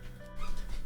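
A dog growling in a video game, a brief low snarl about a second long over a steady background hum, with no speech.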